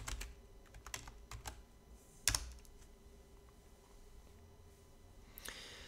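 Fingers type on a computer keyboard, with quiet irregular key clicks in short bursts and one louder clack, set against a low steady room hum.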